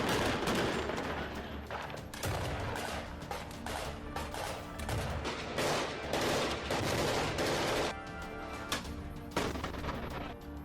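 A GM-94 grenade launcher and other weapons fire in combat, a dense clatter of loud gunshot bursts and heavy booms echoing over several seconds without a pause.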